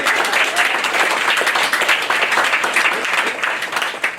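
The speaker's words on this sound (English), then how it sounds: "Clap it up for yourselves one more time." A comedy-club audience at a stand-up special applauding, dense bright clapping that stays steady and loud for the whole stretch, with no talk over it.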